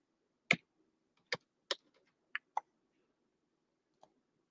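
Keys tapped on a computer keyboard while a name is entered, heard as a handful of sharp, separate clicks spaced irregularly in otherwise quiet surroundings, with one faint final tap.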